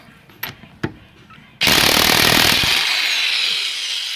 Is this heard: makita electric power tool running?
yes